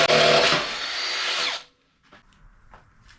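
A power drill with a 5/16 bit bores in a loud, steady whine for about a second and a half, then stops, leaving faint handling clicks, during a bumper and winch install on a 2022 Bronco.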